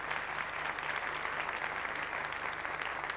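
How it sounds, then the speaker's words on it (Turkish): Studio audience applause on the 1993 Turkish TV game show Değiştir, a steady, dense wash of clapping heard from a distance for a few seconds without talk. "alkışlarımızı alıyoruz"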